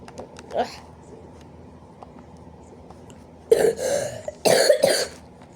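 A person coughs twice, close and fairly loud, in a short burst after a stretch of quiet room tone with a faint earlier throat sound; the person is ill.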